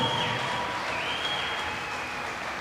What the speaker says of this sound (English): A roar from the crowd, I'm sure.